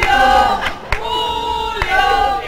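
Spectators in the stands at Mendizorroza stadium during an Araski versus Ourense match shout and cheer, a loud mass of voices with a few sharp peaks before the noise settles somewhat.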